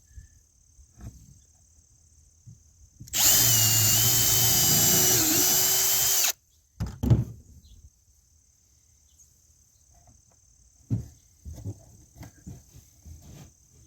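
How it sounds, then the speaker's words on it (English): A power drill whines loudly for about three seconds as a nail used as a bit bores a hole in a wooden birdhouse, followed by a few light knocks and handling sounds. "I'm using it to drill a hole, so the hole will be the exact same size as my lock"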